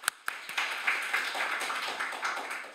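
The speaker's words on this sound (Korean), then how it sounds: "그럼 큰 박수로 모시겠습니다." Scattered clapping from an audience welcoming a speaker to a Korean economics lecture, opening with a few sharp claps and settling into a light, steady patter; a voice murmurs faintly underneath.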